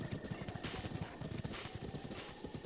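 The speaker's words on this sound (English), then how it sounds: "Whoa, there's loads of horses." Several horses gallop in The Legend of Zelda: Breath of the Wild, their hoofbeats a quick, steady drumming that runs the whole time at close range under a soft outdoor background.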